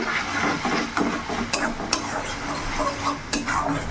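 Ginger, garlic and chili paste is stirred into softened tomato and onion in a hot pan, a soft continuous sizzle broken by a few sharp clinks of a spoon against the pan.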